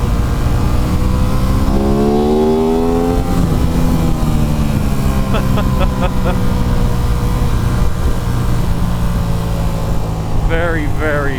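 A 2023/24 Aprilia RS 660 motorcycle engine drones and rises in pitch as the bike accelerates on the road, with loud wind rush throughout and a rider talking over it.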